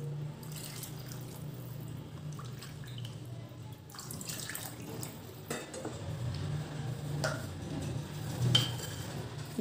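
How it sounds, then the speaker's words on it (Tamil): Coconut milk and water poured into a pot for coconut milk tomato biryani, with a steady liquid splash and pouring, scattered drips and a few clinks of the pot, close and moderately loud throughout. "தேங்காய் பால் சேர்த்துக்கிறேன்."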